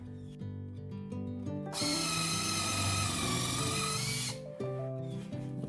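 A power drill with a countersink bit whines at steady high pitch for about two and a half seconds, bracketed by quieter motor hum before and after.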